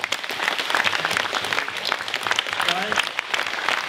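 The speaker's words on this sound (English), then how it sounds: "how about a round of applause right now?" An audience at a motivational talk breaks into a round of applause, a continuous loud patter of many hands with a few voices calling out over it.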